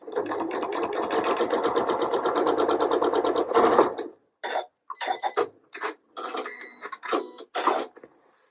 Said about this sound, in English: I'm going to be sewing down this short side here